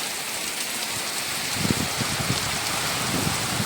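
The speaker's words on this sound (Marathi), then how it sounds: "पाऊस आला ना की किती भारी वाटतो तो हो बघा वरती डोंगरावरून पाऊस जातो" Steady monsoon rain pours over paddy fields in hilly Konkan country, a dense, even hiss throughout, with a few low rumbling gusts in the second half.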